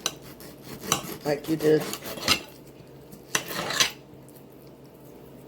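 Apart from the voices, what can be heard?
knife cutting meat into strips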